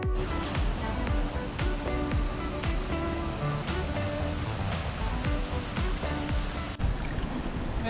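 Waterfall cascading into hot springs in El Salvador, a steady, dense roar of falling water that stays loud and continuous throughout, with a few brief splashy bursts on top.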